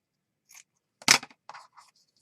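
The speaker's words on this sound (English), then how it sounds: "I've got a little piece of fabric here. I'm going to cut a little piece." Scissors snipping a small piece of fabric for a junk journal, a sharp single cut followed by a few quieter crisp snips, close and faint in a quiet room.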